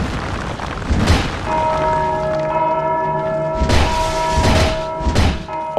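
A deep bell tolls in the Undead Crypt entrance of Dark Souls 2, heavy booming strikes with long ringing tones that linger between them, loud and close, several strokes in sequence without speech.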